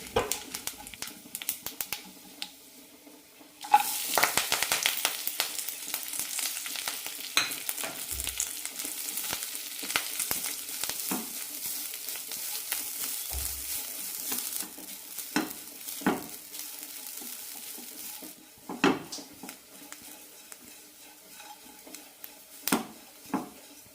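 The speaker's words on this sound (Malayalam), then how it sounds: "കറിക്കുള്ള തേങ്ങ വറുത്തെടുക്കാം" Grated coconut frying in a pan with a teaspoon of oil, cinnamon, cloves, cardamom and fennel seeds for a red cowpea curry: steady close sizzling with repeated scraping and stirring strokes, no talking.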